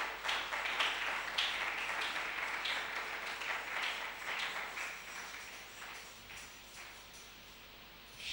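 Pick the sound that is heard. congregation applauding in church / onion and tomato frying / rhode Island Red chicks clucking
congregation applauding in church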